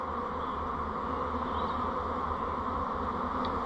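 Honeybees shaken down from hive frames to make nucs, swarming season, a steady dense buzzing drone filling the air continuously, close and even in loudness throughout.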